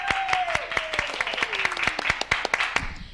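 Applause from a television studio audience, a dense stretch of rapid hand clapping with a sweeping tone sliding downward underneath, loud and continuous throughout.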